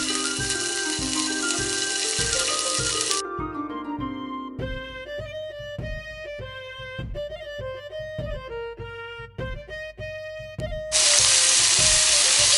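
Prawns fry in a pan for Italian prawn pasta in white sauce, a loud broadband sizzle at the start and end with quieter crackling and clinks in between.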